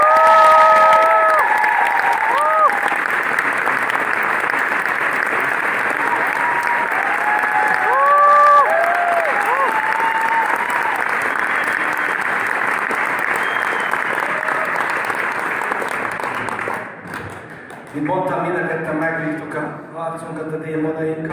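Sustained, dense applause from a concert audience welcoming a songwriter onto a stage. The applause holds steady, loud and continuous, with occasional cheers, then fades out as a voice begins speaking.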